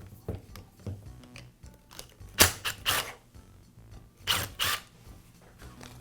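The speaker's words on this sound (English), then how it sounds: "I'll begin by removing the rear motor housing from the grinder." Rear motor housing being worked off a Makita angle grinder, giving a series of close, sharp plastic clicks, ratcheting snaps and scrapes spread irregularly through the clip.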